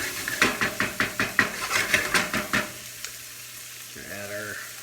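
Chicken for cacciatore sizzles in a pan while a utensil stirs it in about eight rhythmic scraping strokes. The stirring then stops, leaving a quieter sizzle and a short clink near the end.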